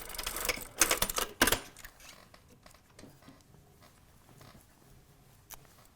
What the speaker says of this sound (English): I'm going to stitch all the way down